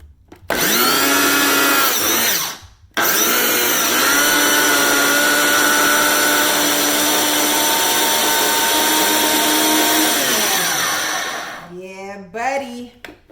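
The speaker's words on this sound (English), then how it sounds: "Buddy, blend that thing up" Countertop blender pureeing onion for jollof rice, a loud close whirring motor that starts, cuts out briefly, restarts and runs steadily for about eight seconds before winding down, with short bursts of talk at the end.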